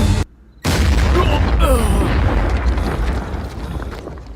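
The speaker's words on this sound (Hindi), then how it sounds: "धमाका।" A loud, booming explosion in an action film erupts after a brief hush, with a heavy low rumble that rolls on and slowly fades.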